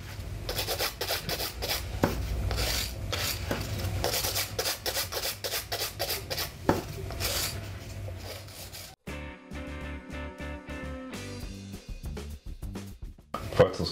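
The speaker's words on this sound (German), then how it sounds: "Das heißt, wir feilen uns zur Nagelhaut hin" A file rasps across a gel nail toward the cuticle in quick, repeated close strokes for several seconds, then the scraping thins into lighter, intermittent rubbing.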